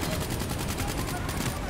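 Dense, continuous gunfire from enemy soldiers in the Call of Duty: Black Ops III campaign, a steady rattle of rapid automatic shots filling the scene with no pause.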